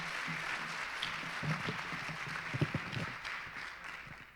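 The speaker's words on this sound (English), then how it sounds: "please join me in a warm round of applause to welcome our MC for the evening" An evening event crowd welcomes the MC with sustained applause, a broad steady wash of clapping with a few nearer claps standing out before it tapers off.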